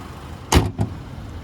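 The door of a 2023 Chevrolet Silverado 1500 pickup is pushed shut gently, making one soft, close thud with a lighter second knock just after it, set against quiet surroundings.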